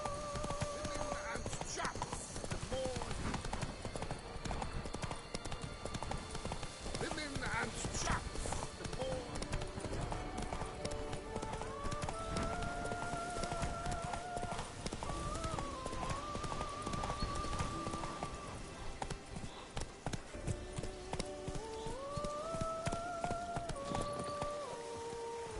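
Hooves of a horse clip-clopping steadily in the Witcher 3 game, a quiet continuous patter under game music and faint talk.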